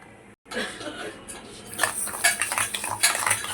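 Spoon stirring yogurt and sugar in a bowl, with light clinks and scraping against the dish, close by, a soft chuckle or brief voice in the background.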